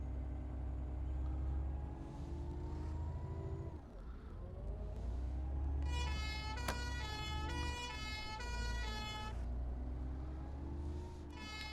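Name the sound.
emergency siren in video game London Bus Simulator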